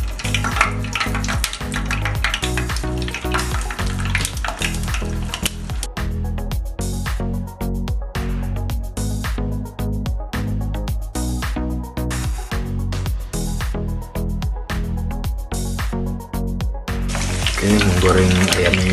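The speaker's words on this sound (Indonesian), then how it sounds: "Kita langsung aja goreng dulu ya si ayamnya." Chicken pieces frying in hot oil in a small pan, a loud, steady sizzle and crackle that runs throughout with little change.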